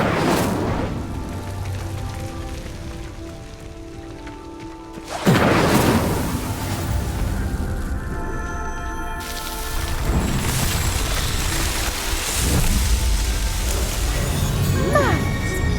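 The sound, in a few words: Incendio fire spell igniting pyres in video game Hogwarts Legacy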